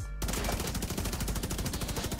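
A Carbine 7 rifle in a video game fires a fast, continuous automatic burst. The close, loud shots repeat in an even, rattling rhythm with no talk.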